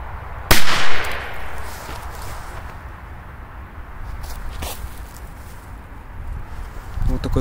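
A big firecracker grenade bursts next to a toy car outdoors with one sharp loud bang, followed by quieter rustling, a faint second crack and light handling noise.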